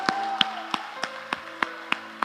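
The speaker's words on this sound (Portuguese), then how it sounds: "Dê uma salva de palmas a Ele, em nome de Jesus." Church congregation clapping in a steady rhythm, sharp regular claps with a sung or sustained tone running underneath.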